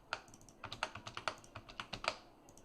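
A password typed on a computer keyboard: a close, quiet run of quick key taps in an uneven rhythm, with a few clustered presses and no talking.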